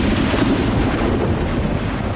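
Thunder from a wild lightning storm over a wet road where trucks are driving, a loud sustained low rumble with no clear break across the whole stretch.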